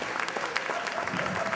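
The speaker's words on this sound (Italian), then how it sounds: "facciamo un applauso al sindaco!" Brief burst of applause for the town mayor at a live comedy show, a crowd clapping densely but fairly softly for a second and a half.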